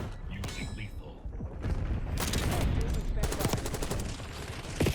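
Rapid-fire Krig C assault rifle bursts on the Nuketown map in the video game Black Ops 6, several quick crackling volleys mixed with game effects and mechanical clatter.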